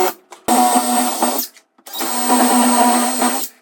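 A power drill bores pilot holes into a wooden wall stud for mounting a heavy 85-inch full-motion TV, two loud sustained whirring bursts separated by a short pause, close by.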